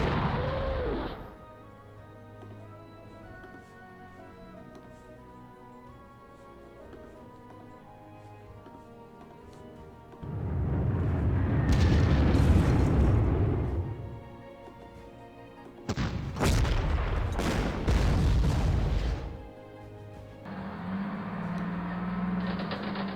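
Artillery strike explosions in the Panzer Corps World War II strategy game, with quiet background music broken by two loud bursts of booming, crashing blasts, close and heavy.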